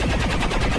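A big gun in XCOM 2 fires in a loud, rapid burst, with pulsing automatic shots in quick succession across the short moment and no talk over it.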